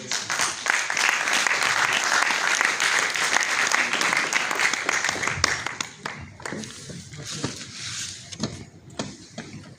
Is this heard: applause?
yes